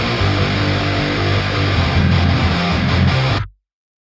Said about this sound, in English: So at the bass, the synth, and the guitars all sound like this together.